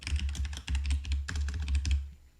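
Typing on a computer keyboard while editing an Emacs Org Mode file, with fast, dense clusters of key clicks in two bursts separated by a short pause, close and clear, with no talk over it.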